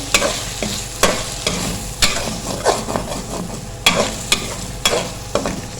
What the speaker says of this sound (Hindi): उसको अच्छे से मिक्स कर देंगे